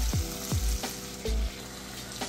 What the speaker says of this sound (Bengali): ভালো করে সজনার সাথে আমি সাঁতলে নেব